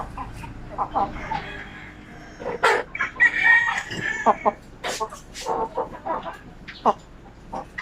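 Native chickens calling and clucking nearby, with a native rooster's crow rising among the squawks over a faint steady hum.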